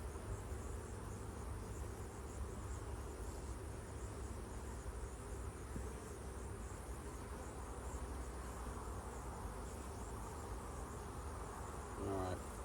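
Honey bees buzz softly at an opened hive in a cow pasture apiary, a faint, continuous hum with no breaks.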